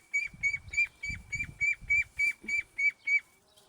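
Muscovy ducks give about a dozen evenly spaced, nasal calls in a steady rhythm, close and fairly loud, over low scuffling background noise.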